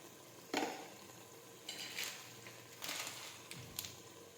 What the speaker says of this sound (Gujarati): હવે આપણે બધા મસાલા છે તે મિક્સ કરી દઈશું આ રીતે.